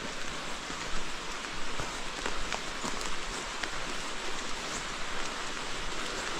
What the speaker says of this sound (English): Rain adds a whole new layer,